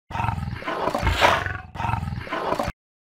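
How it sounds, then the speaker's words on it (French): Two long, loud roaring bursts from a dinosaur in a children's educational PC game, the second a near repeat of the first, ending abruptly in silence. "D comme dinosaure."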